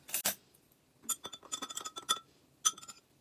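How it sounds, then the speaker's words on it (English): A spoon clinks against a glass while stirring tea for bubble tea, several quiet, bright chiming taps in short irregular bursts with a brief rustle at the start. "I'm actually going to give it a stir."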